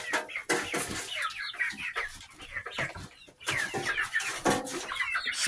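Young pullets cluck and chatter in a backyard coop, a busy, close chorus of overlapping soft clucks and chirps with occasional louder calls, continuous throughout.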